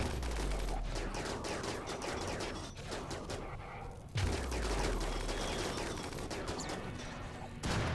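Steady rattling gunfire in a RimWorld colony battle runs throughout, with a heavier thud near the middle, under a voice talking.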